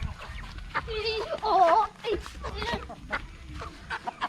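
Chickens cluck at a chicken farm in Bukidnon, with nearby clucks and squawks coming in short bursts while a person says a brief word.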